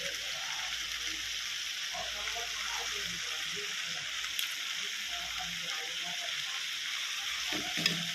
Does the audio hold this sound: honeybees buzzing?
no